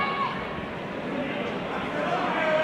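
A boxing crowd at Sunderland Live Arena keeps up a steady roar of cheering and noise throughout, dense and continuous, with a commentator talking over it.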